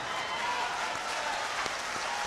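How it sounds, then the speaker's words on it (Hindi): Audience at a mushaira poetry gathering in Lucknow gives a round of applause, a soft continuous patter of many hands clapping, distant and quiet. "इस पर आपको थोड़ा ज्यादा तालियां बजानी चाहिए।"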